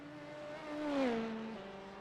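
An Aston Martin GT race car in iRacing at the Detroit Grand Prix circuit revs past, its engine note rising and then falling as it sweeps by, swelling to a loud peak mid-clip before fading away.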